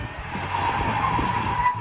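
A front-wheel-drive car skids and spins out in a parking lot, a sustained loud tire squeal over engine roar, continuous and close, with no voices.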